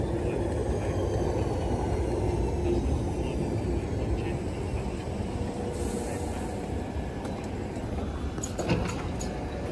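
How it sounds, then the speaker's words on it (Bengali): A London Underground train pulls into a platform on the Piccadilly line toward Cockfosters, a steady loud rumble of wheels and carriages filling the station, with a brief louder clatter near the end. "এই ট্রেন মনে হয় আরতির ব্যাগ নিয়ে আসছে"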